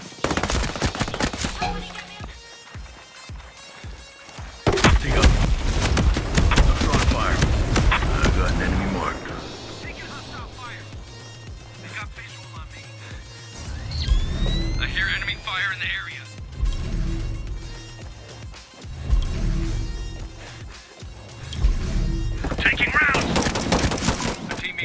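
Gunfire in Ghost Recon Breakpoint: bursts of automatic rifle fire crack and rattle in dense volleys, some loud and close, others lighter, broken by quieter gaps, with voices speaking in between.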